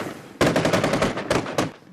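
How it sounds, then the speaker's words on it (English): Loud bursts of rapid automatic gunfire on the streets of Kirkuk, Iraq, two quick volleys of shots close together, with no talking. "Gunfire erupted on the streets of the Iraqi city of Kirkuk"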